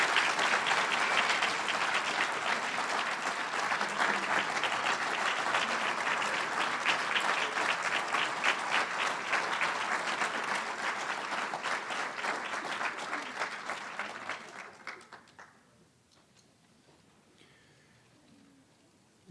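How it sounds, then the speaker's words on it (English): Sustained audience applause for Hall of Fame inductees at a varsity club induction dinner in a large forum, a dense roar of clapping that holds for about fourteen seconds before fading quickly to quiet room tone. "Let's please have one more round of applause for these"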